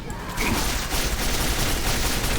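A dense burst of rapid gunfire in the video game Quake 4 cuts in and continues as a loud, crackling barrage with no pauses.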